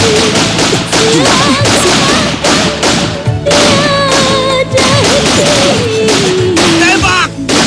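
Sustained gunfire in a dramatic TV action scene, dense rapid bursts of shots and impacts layered over music, loud and continuous with brief gaps.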